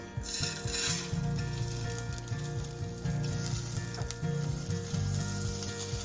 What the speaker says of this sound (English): I'm gonna put a little bit of olive oil, put my freshly washed rice in there.